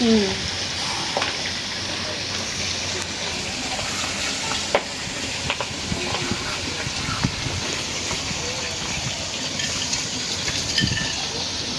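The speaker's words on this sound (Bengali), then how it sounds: "আর এক চুলা হলো মাছ ভাজা হতেছে" Fish frying in oil on a stove in a village-style kitchen, with a continuous sizzle and crackle lasting the whole stretch, steady and close, and occasional faint clinks and voices underneath.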